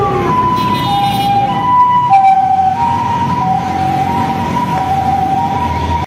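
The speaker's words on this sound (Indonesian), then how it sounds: "Ini ada mobil ambulans." A toy ambulance sounds its siren, a loud, close two-tone wail alternating steadily in pitch for several seconds with no talking.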